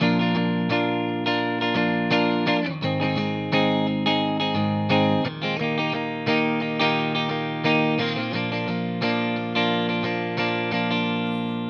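An electric guitar plays an intro chord progression, strummed with a light effect, chords changing every second or so, clear and close with no talking.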